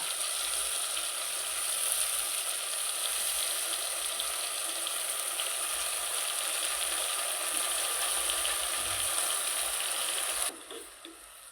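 A kilo of chopped tomatoes sizzles steadily in a hot pan of oil for tomato pickle, a loud continuous frying hiss that cuts off sharply near the end, with no talking.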